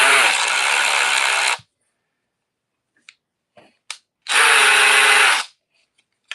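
A Milwaukee impact wrench runs loud and close in two sustained bursts of about a second and a half each, with a gap between them that holds small clicks and handling noises.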